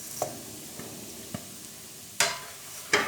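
Vermicelli frying in ghee with cardamom, a faint sizzle broken by a few stirring scrapes and clinks, the last two louder and close.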